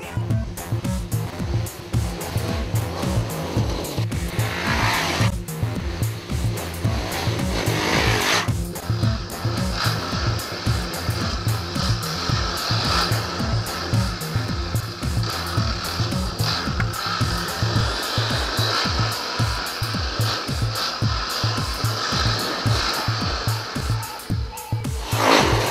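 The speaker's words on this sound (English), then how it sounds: "This bike here is the Honda CRF250X." A Honda CRF250X 250cc four-stroke enduro motorcycle revs and thumps along a forest trail at Maramarua Forest, its engine loud and close throughout with shifting throttle pitch.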